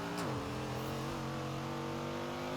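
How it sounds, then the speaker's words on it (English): A Viper V10 engine revs in Forza Horizon 4, a steady droning tone that climbs briefly then holds high and sustained, loud and alone. "You can hear the Viper V10 in that car, right?"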